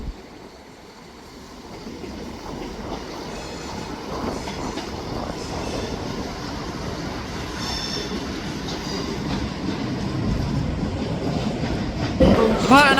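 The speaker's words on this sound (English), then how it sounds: "Departing out now is the 1435 Scotrail service, starting here at Edinburgh Waverley to Perth" ScotRail 170451 pulls out of Edinburgh Waverley, a steady rumble of wheels and engine building gradually, with metallic wheel squeal rising near the end and station ambience around it.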